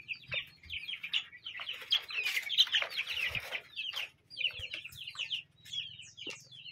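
Several chickens cluck and squawk in overlapping bursts, fairly close, with a low hum underneath and brief quieter gaps.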